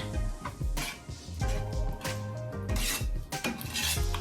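A spoon stirs melting orange and white cheese in a pot for macaroni and cheese, with loud repeated scraping and clanking against the pot in a quick uneven rhythm, close up with no talking.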